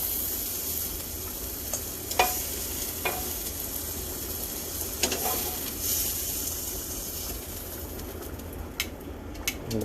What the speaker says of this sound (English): I'm going to throw some more butter in, and I'm going to throw in the vegetables